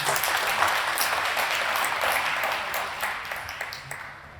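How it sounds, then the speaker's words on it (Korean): Warm applause from a Rotary Club family workplace-visit gathering in Korea, an even crowd of clapping hands sustained throughout at moderate, slightly distant level with no talk over it. "다시 한번 뜨거운 박수 한번 부탁드립니다"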